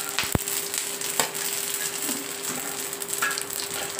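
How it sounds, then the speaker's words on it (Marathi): Bay leaf and coriander seeds fry in hot oil with a steady close sizzle, broken by a couple of sharp clicks of a utensil against the pan. "तेजपत्ता चांगला लाल झाला का हे सगळे मसाला टाकून द्यायचा, धने वगैरे."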